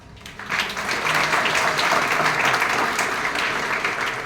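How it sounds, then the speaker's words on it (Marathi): Sustained applause from a crowd, steady dense clapping that swells in quickly and holds loud for several seconds. "तुमच्यासाठीच तुम्ही टाळ्या वाजवा"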